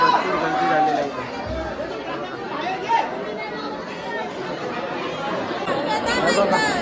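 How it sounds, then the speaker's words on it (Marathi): A large crowd gathers at the Dronagiri temple festival, with steady, loud, overlapping chatter and babble from many people nearby and occasional clearer voices rising from the din throughout. "भरपूर गर्दी झालेली आहे इथे बघा भरपूर गर्दी झालेली"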